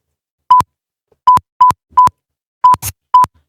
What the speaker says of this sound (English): Every beep is the N word.